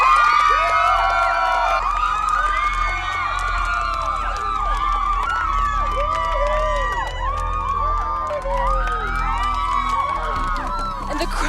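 An excited crowd erupts in loud, dense cheering and shrieking as a chancellor steps out of a car, overlapping voices whooping continuously over a low rumble for the whole stretch.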